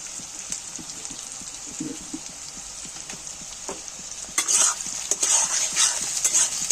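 Potatoes frying together with other ingredients in a pan give a steady high sizzle with scattered clinks and scrapes of a spoon. Louder bursts of stirring and spattering follow partway through, close up.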